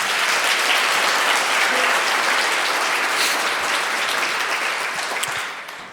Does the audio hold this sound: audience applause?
yes